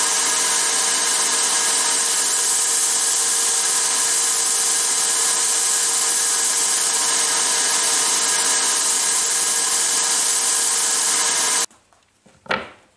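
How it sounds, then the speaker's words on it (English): A belt sander shapes a small metal ram for a scale model shaper, giving a loud, continuous abrasive whir and grind that holds steady for about eleven seconds before cutting off, followed by a brief clatter. "Use the belt sander."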